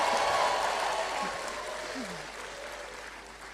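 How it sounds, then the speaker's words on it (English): Audience applause at a leadership talk, a dense wash of clapping that starts loud and slowly fades over a few seconds, with faint voices mixed in. "All the queens clap for the big kings around them."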